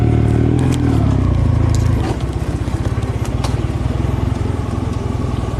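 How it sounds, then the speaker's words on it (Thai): A big-bike motorcycle rides into a cave, its engine rumbling close and loud with a steady pulsing beat that drops into a lower, rhythmic idle partway through, with echoing cave ambience. "เมื่อเขาขี่บิ๊กไบค์เข้าไปในถ้ำ"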